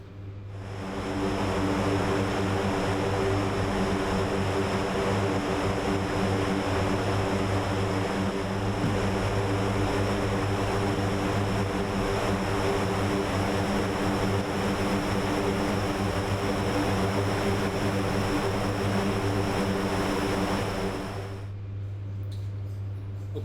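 Propeller engines of a cargo plane in the DCS flight game, a loud steady droning roar with a deep throbbing hum that holds for about twenty seconds, then cuts down to a lower rumble near the end.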